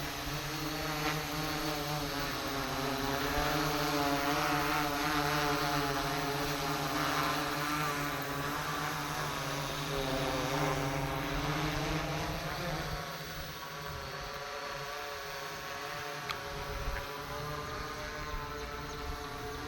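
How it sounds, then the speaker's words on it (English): A drone flies at a drone technology training centre, giving a steady whirring propeller buzz whose pitch wavers and shifts, easing slightly toward the end. "So you can see this drone."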